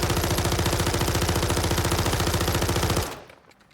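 Close-range automatic weapon firing in Warzone, a rapid steady burst of loud shots lasting about three seconds before cutting off abruptly and fading into quiet.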